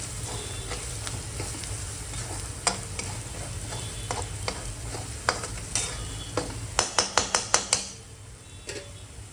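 A spoon stirs coriander powder and kitchen king spice mix in a pan over a low sizzle, with scattered scrapes and then a quick run of sharp metallic taps near the end.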